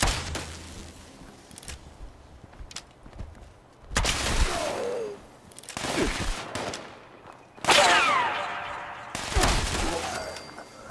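Berserker Plasma Crossbow firing in the video game Fallout 76, with several separate sharp blasts spaced a second or two apart, each followed by a crackling, sweeping energy tail, between quieter stretches of ambient noise.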